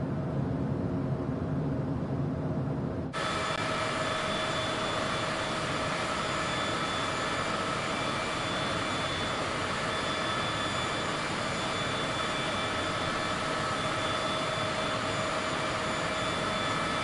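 A jet airliner's engine in Microsoft Flight Simulator 2024 roars steadily on approach to land, a loud broadband whine with sustained tonal hums that continues without a break after the sound swells early on.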